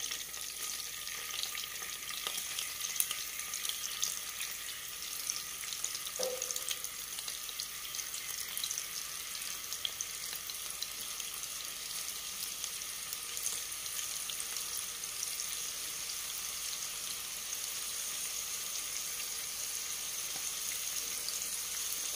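Prawns frying in oil for a Kerala-style prawn roast, a faint, steady hiss and sizzle running continuously at a low level with no talk.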